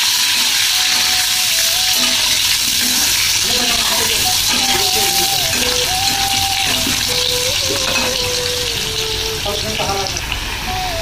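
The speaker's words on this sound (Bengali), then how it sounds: "তেলটা গরম হয়ে গেল, এবার আলুগুলো দিয়ে দিলাম। আলু ভালো করে ভেজে নেবো এইভাবে করে।" Potatoes fry in hot oil with a loud, continuous sizzle and bubbling hiss, joined by scraping stirring sounds and some faint voiced murmuring.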